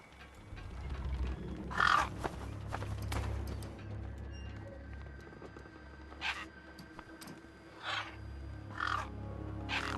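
Scavenger birds caw in the wasteland of the video game Beyond a Steel Sky, several separate harsh calls spaced over a low rumbling ambience, moderately near and clear.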